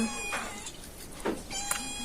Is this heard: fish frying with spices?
no